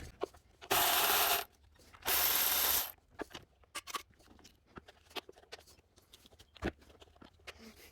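Ratchet clicking while 10 mm bolts come off a 2005 Toyota 4Runner 4.7L V8 engine, with two long bursts of steady ratcheting early on followed by scattered short clicks and taps of tools nearby.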